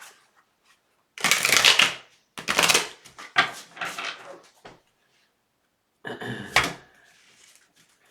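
Tarot cards are shuffled in several quick riffling bursts separated by short pauses, close up and fairly loud.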